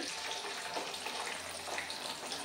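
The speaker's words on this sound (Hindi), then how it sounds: "तो आप देख सकते हो तेल अच्छे से गर्म है इसमें मटर डाल देंगे" Green peas fry in hot oil, a dense, soft, continuous bubbling hiss close by, with no voices.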